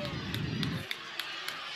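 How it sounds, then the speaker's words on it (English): A soccer crowd at a Kenyon vs Hamilton match roars in outrage after a reckless foul, a broad wash of distant jeering and shouting that swells briefly and then thins into a steady rumble. "Crowd outraged."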